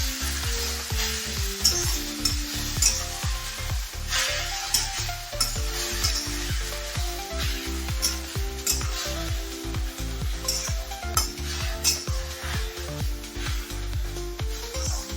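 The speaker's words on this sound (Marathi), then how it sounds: "व्यवस्थित हलवून घेऊ." Fenugreek leaf stir-fry sizzles loudly in a pan while a spatula stirs it, with steady frying hiss and repeated rhythmic scraping strokes close up.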